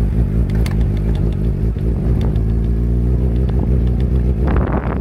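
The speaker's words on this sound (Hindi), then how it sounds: "मैं आपको एक मूविंग शॉट ऐड कर देता हूँ कि ब्रैकेट से टूटने की वजह से कितना वाइब्रेशन आ रहा है" Suzuki GSX-R 600 sport bike riding with a broken meter fairing stay: a loud, steady engine drone with a buzzing vibration and clattering rattle running throughout.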